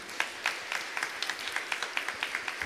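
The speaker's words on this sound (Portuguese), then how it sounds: "Vamos dar uma salva de palmas para esses malucos aqui, gente." Faint applause from a small audience at a talk by a Catholic priest, with sparse, distinct claps in a loose rhythm, fairly distant and thin.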